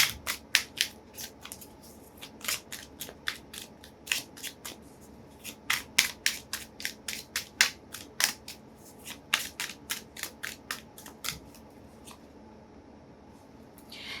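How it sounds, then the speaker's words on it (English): Tarot cards being flipped and shuffled, a rapid irregular run of sharp close snaps and flicks over a faint steady background hum, thinning out toward the end. "I don't know why are so many cards flipping."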